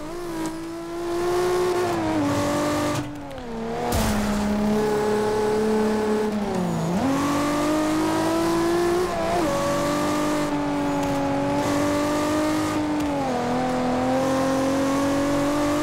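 Toyota Supra MK4 engine in the racing game Forza Horizon 2, tuned to 1500 hp, roaring loud and continuous, pitch sweeping up and down through repeated gear changes and throttle lifts, with no voices over it.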